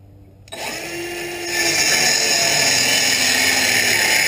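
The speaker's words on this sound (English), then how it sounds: "Just going back to the old Milwaukee saw." A Milwaukee power saw cuts through a wooden stud during an off-grid cabin build. It starts abruptly after a brief quiet moment and settles into a loud, steady, grinding whine that holds to the end.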